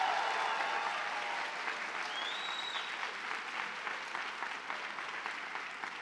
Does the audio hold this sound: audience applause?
yes